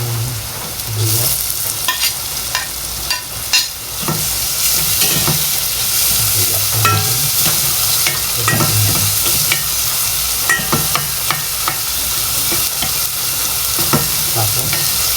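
Onions sizzle and fry in a hot pan, a constant loud hiss punctuated by repeated stirring scrapes and clanks of a utensil against the pan, close up with no talking.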